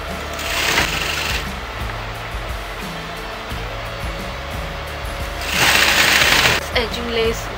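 A sewing machine stitches edging lace onto dress fabric for a circle skirt lehenga, two loud whirring bursts of stitching separated by quieter handling sounds and pauses, close to the listener.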